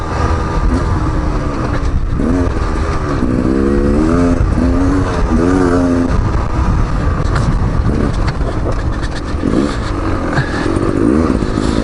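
A 2019 Beta Xtrainer 300 two-stroke dirt bike climbing a hill: the loud, buzzing engine revs and climbs in pitch repeatedly under heavy throttle, the rough whine wavering as it labors up and down.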